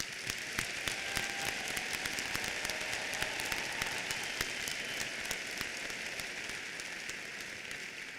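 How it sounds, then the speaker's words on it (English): A large audience applauds at a university graduation ceremony, a steady, dense patter of many hands clapping at once. It keeps an even level for the whole stretch, with no speech over it. "I'd like to applaud our international students."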